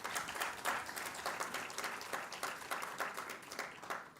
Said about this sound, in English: a thunderous applause for the Union Honorable Minister of Law and Justice